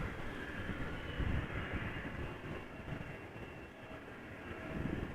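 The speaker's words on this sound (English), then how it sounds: "We have a Lufthansa CRJ taxiing to the runway threshold." Lufthansa CRJ jet taxiing to the runway threshold at Amsterdam Schiphol, a steady broad engine roar at moderate distance, fairly faint, with gentle swells and no voices.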